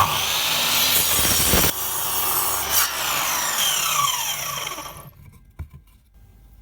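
A saw blade plunges through a 2x4 timber for a mitre cut, a loud steady rasping cut lasting about five seconds that stops abruptly, leaving faint knocks of handling.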